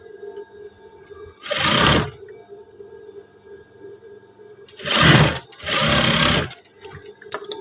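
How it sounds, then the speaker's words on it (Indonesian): A sewing machine stitches the side seam of trousers in three bursts of fast, even whirring, a short run then two longer ones close together, with a quiet motor hum between them. "Lalu kita jahit pas bagian samping terlebih dahulu."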